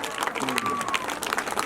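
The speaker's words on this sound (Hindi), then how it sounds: "ताली बजा दो।" An audience claps at a Shrimad Bhagavat Katha religious gathering, a dense patter of many hands close by, with voices mixed in.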